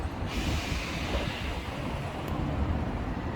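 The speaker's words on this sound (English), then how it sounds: "Here it comes now, a lovely view of this tram." A tram pulls into a stop in a Blackpool city-building game, a steady broadband rail rumble with wheel noise that holds at an even level throughout, with no voices.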